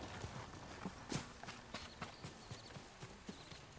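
Horse hooves clip-clop at a steady walking rhythm on a mount in the video game Ghost of Tsushima, with faint scattered ambient sounds around them.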